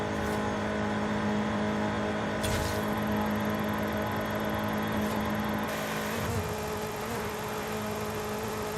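Stock-engine Nissan Sentra Nismo tuned to about 409 horsepower in Forza Horizon 5, heard from an outside view: a steady loud engine drone with revving shifts and a louder surge near the end, no talking.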